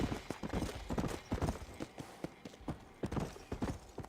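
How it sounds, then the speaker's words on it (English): Horse hooves clip-clop at a steady trotting rhythm in the Undead Nightmare expansion of Red Dead Redemption, a close, fairly quiet run of sharp knocks. "Oh, who's that on a horse?"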